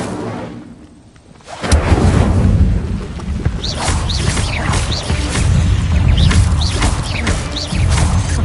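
A fire spell cast in the video game Hogwarts Legacy: after a quiet moment, a sudden loud burst erupts into sustained roaring, crackling flames with scattered sharp whooshes layered over a dense game soundtrack.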